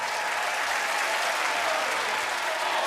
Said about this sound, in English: Deafening cheers, a dozen curtains and imperative clamour for author